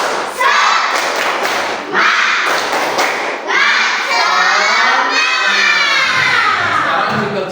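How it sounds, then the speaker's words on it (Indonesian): A class of primary schoolchildren in an Indonesian classroom does a rhythmic group spirit clap, with bursts of loud unison claps and thumps in a pattern, mixed with excited shouting and chanting voices. "sekarang sebelumnya tepuk semangat."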